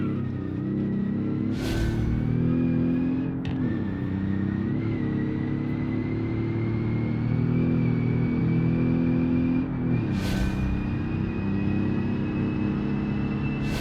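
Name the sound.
race car engine and braking in video game Automation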